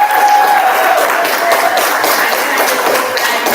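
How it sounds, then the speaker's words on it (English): An audience at a graduation ceremony breaks into dense, loud, sustained applause, the clapping spread evenly across the whole stretch as a full roomful of hands. "So let's give a round of applause"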